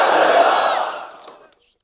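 A large crowd at a religious gathering roars a chanted slogan in unison, loud and close, then the shout fades out over about a second and a half into silence.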